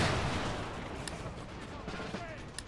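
Cannon artillery fire in the battle strategy game Empire: Total War, distant booms and crackling volleys rolling under a continuous battle din while someone talks over it.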